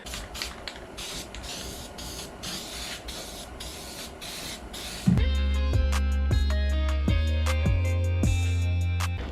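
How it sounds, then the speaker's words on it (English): Zinc primer sprays in pulsing hissy bursts onto the floor pan of a 1973 Volkswagen Beetle under restoration. After a few seconds the spraying gives way to a steady mechanical drone with regular ticks. "we just hit it with the zinc primer"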